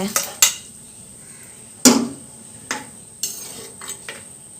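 Okra pieces go into a pot of boiling tamarind water for an old-style curry, with a few sharp clinks and clatters of a utensil against the pot spread across a quiet kitchen, followed by softer stirring knocks.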